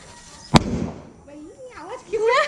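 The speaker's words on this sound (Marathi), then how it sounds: "जाऊ दे तर लक्ष्मी बॉम्ब लाव" A single Laxmi bomb firecracker bursts with one sharp, loud crack during a Diwali celebration outside a village house, followed by a fading rumble as voices talk before and after.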